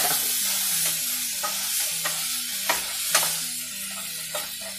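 Meat frying in a pan, with a steady loud sizzle throughout and a spoon stirring and scraping at irregular intervals, several sharper clinks standing out. No talking.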